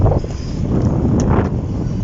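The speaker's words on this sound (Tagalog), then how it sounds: "kumukontra yung hangin, papunta rito yung hangin" Wind gusts buffet the microphone and flap against a large tarpaulin being installed, a steady low rumble with rustling, close and fairly loud throughout.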